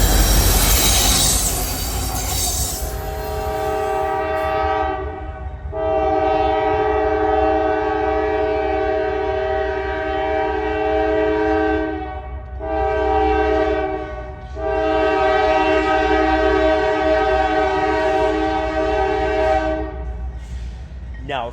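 Freight train rolling past on tracks near Atlanta, Georgia, loud and close, with strong sustained horn blasts and squealing wheels over a steady rumble that swells and dips throughout.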